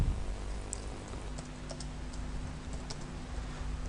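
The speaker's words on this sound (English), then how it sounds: "I'll just click here on the page and start typing" Typing on a computer keyboard while entering a text message in Photoshop Lightroom, a run of light, close key clicks in an irregular rhythm over a low steady hum, no voices.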